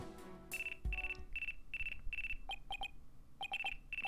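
A video-game phone ringtone from Phoenix Wright: Ace Attorney Dual Destinies, a repeating electronic trill in short evenly spaced bursts, then quicker double chirps, fairly clear over a soft background hum.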